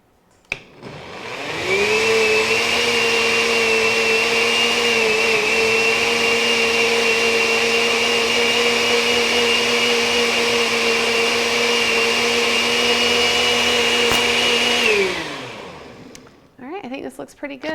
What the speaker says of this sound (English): And then we're just going to keep blending it.